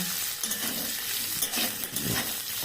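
Carrots, beans and capsicum frying in a pan with a steady, close sizzle and occasional stirring scrapes, continuous throughout with no talking.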